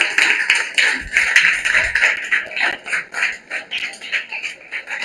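An audience at a baking meet-and-greet claps along in a steady rhythmic beat, many hands striking together in even pulses that carry on for several seconds at close range.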